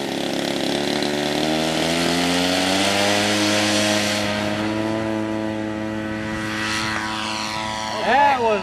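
A Stearman biplane's radial engine and propeller throttling up, a loud close roar with rising pitch that swells and steadies, with a brief surge near the end.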